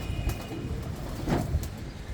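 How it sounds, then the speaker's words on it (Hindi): A short, low pigeon coo rises out of a soft, noisy background, close by and fairly quiet, with no one speaking. "ये वो कबूतर है।"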